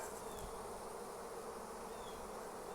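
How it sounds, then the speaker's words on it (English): A dense, steady buzz of many honeybees at a beehive, swarming close by, constant and unbroken with no voices. "My hand is right there with all these bees."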